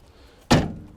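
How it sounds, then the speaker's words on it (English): An RV entry door at a campsite swinging open with a single sharp, fairly close thunk, followed by a short decaying rattle in an otherwise quiet setting. "Okay, now that we've got the doors open"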